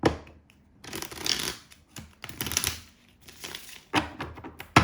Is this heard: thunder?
no